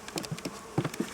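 Honeybees buzz around their hives in short, fluttering bursts close by, a brief patch of soft insect hum with no talking.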